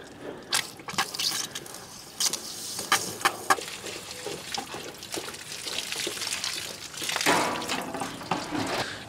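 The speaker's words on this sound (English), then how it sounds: "Give that tank a bit of a flush." Rusty coolant draining and splashing from the flushed radiator tank and block drain tap of a long-stored salvaged tractor, a steady trickling pour broken by sharp drips and clatters, close and alone with no talk.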